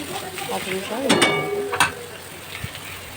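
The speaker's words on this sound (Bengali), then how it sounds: "একটু নাড়াচাড়া করে নিয়ে আমি তেলটা দিয়ে দিলাম" Spices and oil sizzle in a pan for a Bengali tel chorchori while a utensil scrapes and stirs, a few sharp clinks of metal standing out near the middle.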